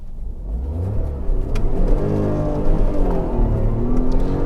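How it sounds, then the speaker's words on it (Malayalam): A stationary Tata Tiago BS6 petrol car's engine revs up hard to its 6000 RPM redline and holds a high, strained roar, the pitch climbing steadily and staying loud and close throughout. "6000 RPM വണ്ടി റെഡ് ലൈൻ ചെയ്തു"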